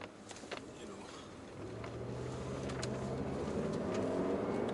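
A BMW M5 F10 sedan on the road, its engine droning steadily from inside the cabin, the tone rising and firming up about halfway through as the car gathers speed, moderately loud and continuous.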